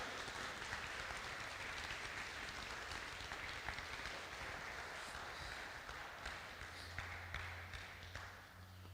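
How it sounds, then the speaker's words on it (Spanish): A church congregation applauds during a Spanish-language sermon, steady dense clapping filling the room throughout, fairly distant and even, with a low hum rising near the end. "Dale un aplauso al Señor"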